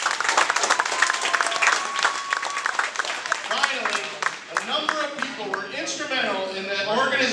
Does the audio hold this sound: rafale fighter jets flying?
no